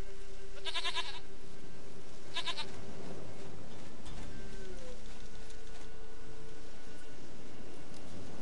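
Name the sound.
goat bleating in video game The Witcher 3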